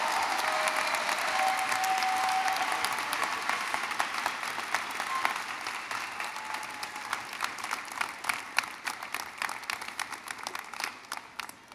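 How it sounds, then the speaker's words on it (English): An audience applauds at a graduation ceremony, with dense clapping filling a large hall that thins out into scattered, sharper claps as it fades toward the end. "Round of applause."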